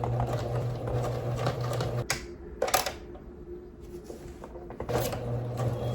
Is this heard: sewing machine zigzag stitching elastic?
yes